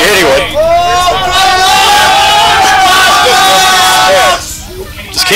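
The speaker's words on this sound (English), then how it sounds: "The crowd hype is unreal, folks." A loud, dense roar of a crowd at a 10v10 gaming tournament, sustained excited cheering and chatter that fills the space before dropping off abruptly near the end.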